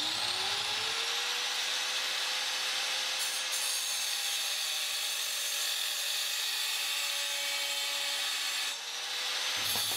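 Metal roof strapping, 40mm wide by 2mm thick and punched with holes, being sawn through with a steady grinding, rasping stroke that runs continuously and loud for most of the stretch before cutting off near the end.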